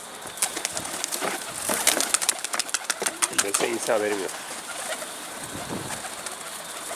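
Pigeons in a coop coo in soft, repeated rolling calls with a few wing flaps nearby, while someone talks over them.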